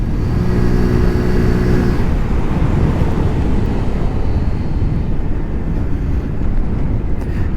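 Zontes ZT125-U1 125cc motorcycle leaning through a bend, its engine buzzing steadily under heavy wind roar at the rider's helmet, loud and continuous throughout.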